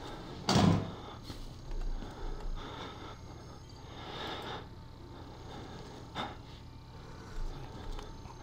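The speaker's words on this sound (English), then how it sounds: "Close the door." A door in the horror video game Outlast swings shut with one sharp thud near the start, followed by quiet ambient rumble and a few faint bumps and creaks.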